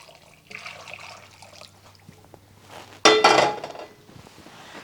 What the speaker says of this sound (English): I'm going to add in 2 cups of boiling water